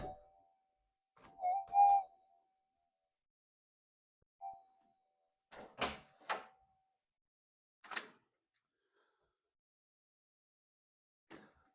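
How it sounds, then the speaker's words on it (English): A door is opened in several separate steps: faint clicks and a latch, then sharper knocks and creaks, sparse and fairly quiet against a silent background. "You can probably see out the door if I open it."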